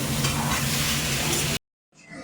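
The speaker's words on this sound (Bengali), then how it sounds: "এবার চিংড়ি মাছগুলো যতক্ষণ না ভাজা হয় ততক্ষণ পর্যন্ত নাড়তে থাকবো" Prawns fry and are stirred in a hot pan with a loud, close sizzle and scraping for about a second and a half, then the sound cuts off abruptly.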